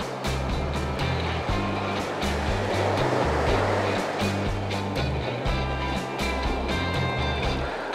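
Ocean surf washing onto a fishing beach, a loud continuous rush of breaking waves and backwash with no voices.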